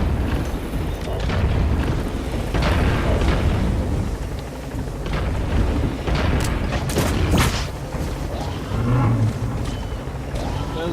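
Smoke grenade thrown and going off in Metal Gear Solid 5, a run of loud booming bursts and hissing rumble over a steady dense game background, with a brief sharper crack partway through.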